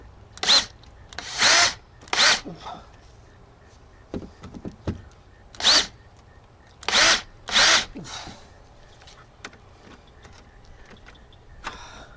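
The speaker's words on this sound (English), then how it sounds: "Find my screwdriver, or a screwdriver." A power screwdriver drives screws into a motorhome entry door panel during a rattle repair, giving several loud, short whirring bursts separated by pauses and small handling clicks, with no talk.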